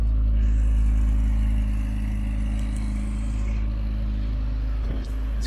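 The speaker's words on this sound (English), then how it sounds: "This car has a nice sporty exhaust note, sounds really great with the top down." A 1979 Fiat 124 Spider convertible with its top down gives a sporty exhaust note, a loud, close, steady low engine rumble that softens slightly, with a brief thump near the end.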